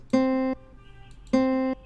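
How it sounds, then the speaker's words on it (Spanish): Two sustained plucked or keyboard notes, both a C, each ringing about half a second, separated by a short quiet gap. "Ese es un Do."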